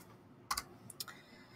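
Several quick keyboard keystrokes on a computer while a name is edited in a software tool, arriving in two short clusters over a quiet background, fairly near and crisp.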